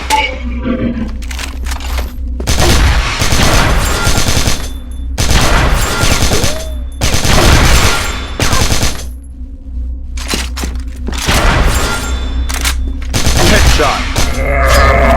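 Sustained bursts of KAC ChainSAW machine gun fire in the shooter game Crossfire Philippines, loud and close, coming in long rattling volleys broken by short pauses.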